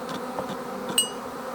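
Honey bees, shaken off a box, crawl back toward their own original hive, giving a faint continuous buzzing hum with a brief sharper whine near the end.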